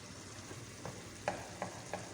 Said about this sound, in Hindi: फिर भून लेंगे पालक को डाल के अच्छी तरह।